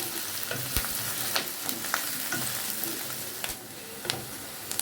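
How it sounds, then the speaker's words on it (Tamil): Onions sautéing in a pan for a home-made Kumbakonam kadappa, a steady sizzle broken by scraping stirs of a spoon every second or so, close and moderately loud with no one talking. "வெங்காயம் சேர்த்து நல்லா மிக்ஸ் பண்ணி விட்டுருங்க. வெங்காயம் நல்லா வதங்கட்டும்."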